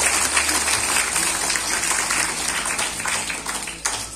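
Audience applause at a Romanian folk vocal group concert honoring a young girl singer, a dense steady wash of clapping filling the whole stretch and tapering slightly near the end.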